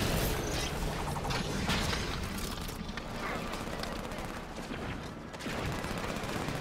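Rapid gunfire from the Halo video game rattles in dense mechanical bursts, loud and continuous, with a person talking over it.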